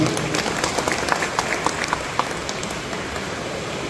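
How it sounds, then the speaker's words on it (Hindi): A crowd applauds steadily, a dense wash of clapping that fades gradually over a few seconds. "मैं उनके सम्मान में पूरे सदन से तालियां बजाना चाहूँगा।"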